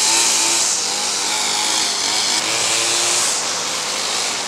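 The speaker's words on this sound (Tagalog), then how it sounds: "Magaan naman yung grass cutter niya." Grass cutter running steadily in rainy outdoor conditions: a loud, close, continuous engine whine with a harsh buzzing drone, nearly constant in level with slight dips throughout.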